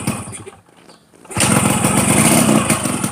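A restored 30-year-old Yamaha RX King motorcycle engine catches after a quiet moment and settles into a loud, close, steady buzzing idle.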